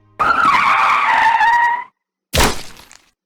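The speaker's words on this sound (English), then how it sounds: "Tires squeaking harshly against the pave as the driver slams on the trunk." A truck's tires skid and squeal harshly on pavement as the driver slams on the brakes in the visual novel The Fruit of Grisaia, a loud sustained screech of under two seconds followed by a sharp crash-like impact.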